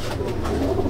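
Kalduma, Sabuj and Chapka Madrasi pigeons in a loft let out a brief, soft cooing burst, close and fairly clear.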